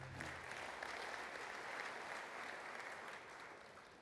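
Warm audience applause welcoming a speaker at a construction safety talk, a dense, steady patter of many hands clapping that holds for several seconds before easing slightly.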